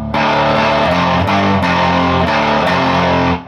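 Distorted electric guitar plays the opening of an intro riff, a few heavy picked notes with a pitch bend on a low string, loud and sustained, ringing alone without voices.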